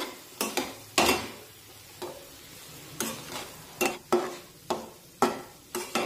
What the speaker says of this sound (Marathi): तर आता उलटण्याने एकसारखं हे सर्व मिश्रण आपल्याला व्यवस्थित परतून घ्यायचं आहे, भाजून घ्यायचं आहे।